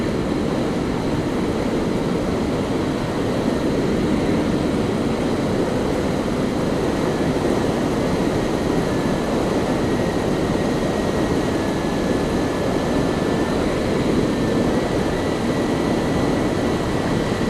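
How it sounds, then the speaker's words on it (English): Wind rushes past a rider's helmet on a moving Yamaha FZ-07 motorcycle at night, a constant, loud roar with engine and road noise blended in, steady throughout with no voices. "I can hear some wind blowing off my helmet"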